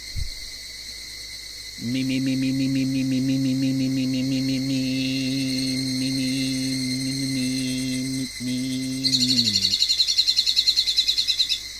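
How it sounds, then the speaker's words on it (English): A loud bird call in the Higurashi game, Meakashi chapter, holds as a steady, sustained tone for several seconds, then breaks into rapid trilled chirps just before it stops, alone with no talk. "Yes, bird, we can hear you. It's quite loud."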